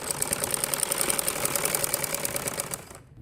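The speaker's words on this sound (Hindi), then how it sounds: "ये देखिए, अब मैं सिलाई करने लगी" Sewing machine stitching the side seam of a fabric churidar pajama bag, a steady, fast, close mechanical chatter that runs continuously for about three seconds, then stops abruptly.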